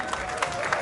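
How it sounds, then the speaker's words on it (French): Applause from a gala audience at an anniversary celebration of a Canadian association, a steady wash of clapping with a couple of louder swells, heard fairly close and mixed with some crowd murmur. "Est-ce qu'on peut applaudir très fort?"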